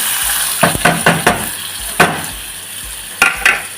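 Onions and green chillies fry in a small pan with a steady close sizzle, broken by several sharp scrapes and clinks of a spoon stirring against the metal.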